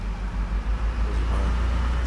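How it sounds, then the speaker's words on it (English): A police car in Arma 3 rolls past with a constant low engine and road rumble, steady and fairly loud through a short stretch. "Here, a cop car."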